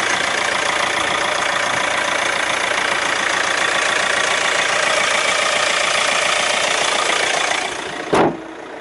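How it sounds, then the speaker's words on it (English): Hyundai ix35 1.7 CRDI diesel engine idling with the bonnet open, a steady, close mechanical hum that runs evenly throughout, ending with a brief thump near the finish. "let's have a look under the bonnet"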